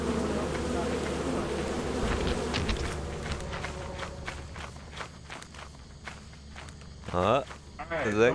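Swarm of killer bees buzzing in the video game Lethal Company, a dense insect drone under game footsteps and player voices, with a louder burst of sound near the end.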